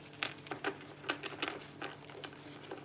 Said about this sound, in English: so you can see me shuffle